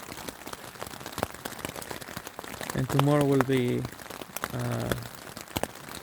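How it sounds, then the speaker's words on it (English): Rain pattering at a campsite at night on the Southern Upland Way, with scattered close drops tapping irregularly while a voice speaks briefly over the soft patter. "We'll fall asleep with the sound of the rain."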